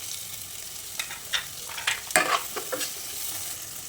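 Onion, tomato and capsicum frying in a pan with a soft steady sizzle, broken by several short scraping stirs of the spoon at close range, with no talking.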